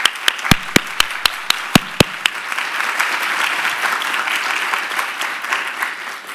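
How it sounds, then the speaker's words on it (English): Summit audience applause: a few sharp, separate claps at first, then swelling into sustained, even clapping from a crowd that carries on to the end. "just give one more round of applause"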